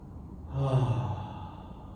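A single slow, audible exhale from someone lying on their back during a yoga low-back stretch, soft and close, rising briefly then fading into quiet.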